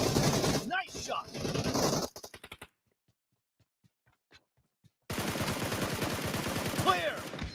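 Video game gunfire comes in loud rapid bursts, with a short stuttering volley, near silence, and then a dense continuous stretch of shots with a voice speaking briefly.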